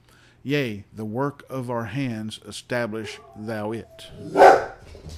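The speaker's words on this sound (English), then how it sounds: "Sorry about my dog barking." A dog barks a single sharp time nearby indoors, rising briefly above a man reading a psalm aloud, with a low hum under the voice.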